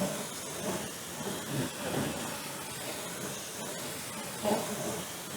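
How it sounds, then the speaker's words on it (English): Water spray rinses a car wheel during a hand wash, a steady broad hiss that swells and eases in bursts, loudest near the end. "Let me rinse off this wheel and go to the next."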